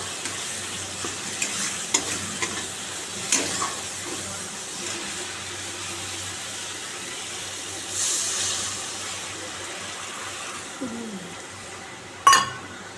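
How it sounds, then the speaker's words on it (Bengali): Fish pieces fry in a pan with a soft steady sizzle, punctuated by occasional clinks and spatula knocks, ending in a sharp metallic clatter near the end. "মাছগুলো দিয়ে দিলাম একটা একটা করে মাছ করে দিয়ে দিলাম"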